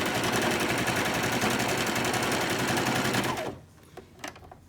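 A domestic sewing machine runs fast and steadily, stitching a fabric face mask with a dense rapid clatter for over three seconds, then stops abruptly, leaving a few faint handling clicks.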